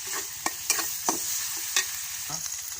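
Ginger and garlic paste fries in a pan for a Bengali lau chicken dish while a spoon scrapes and stirs it, several sharp scraping strokes over a soft steady sizzle, close and moderately loud, no talking.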